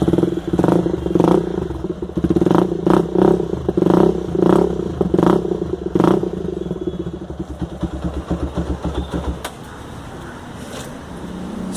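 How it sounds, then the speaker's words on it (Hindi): A custom Bajaj Avenger motorcycle fitted with Harley parts, revved hard several times in close succession. Each loud, throaty blip of the engine rises and falls, then the bike settles into a quieter, lumpy idle. "this is the sound of the bike"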